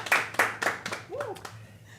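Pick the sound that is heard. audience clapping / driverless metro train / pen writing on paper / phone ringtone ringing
audience clapping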